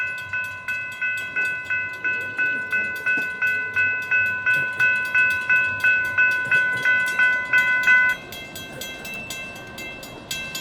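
Florida East Coast Railway freight train FEC 107 passing in St. Augustine, Florida, as a level-crossing bell rings in steady rapid strikes for about eight seconds over a low rolling rumble that carries on after the bell stops.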